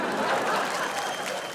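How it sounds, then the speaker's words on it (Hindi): A studio audience claps in a brief, dense burst of applause, steady and fairly close for the whole moment, with no talk over it. "ताली बजाए।"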